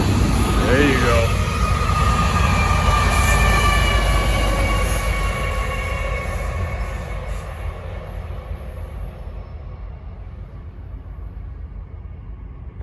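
Norfolk Southern freight train 28R with distributed power units rolling past the end of its consist, a steady loud rumble and wheel noise that gradually fades as the cars pull away, with a brief horn-like tone early on.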